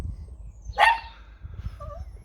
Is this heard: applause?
no